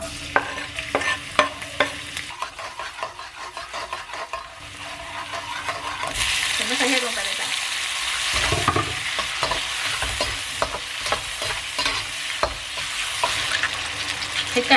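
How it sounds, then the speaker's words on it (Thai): Thai home-style noodles are stir-fried in a wok, with rhythmic scraping and tossing strokes over a continuous sizzle that swells louder and hissier midway through. "เดี๋ยวสตาร์จะพามาผัดมีแบบบานๆเนาะ"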